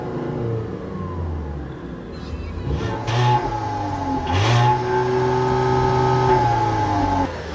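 A 2015 VW Jetta engine revs in park up to about 4,000 RPM, rising in pitch in a couple of surges then holding a steady high drone, loud and close, with a brief voice in the background.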